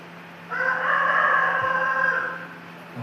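A rooster crows once, a long drawn-out cock-a-doodle-doo, clear and fairly close against a quiet background.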